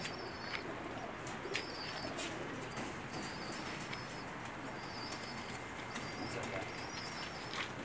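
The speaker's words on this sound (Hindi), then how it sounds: "ये वो कबूतर है" Pigeons chirp in short repeated bursts amid soft flapping and a low, steady background rustle on a rooftop pigeon loft in Jeddah, Saudi Arabia.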